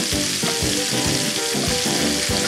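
Pork sizzles and spatters loudly in hot oil in a pan, a dense continuous crackle with soft rhythmic stirring scrapes underneath.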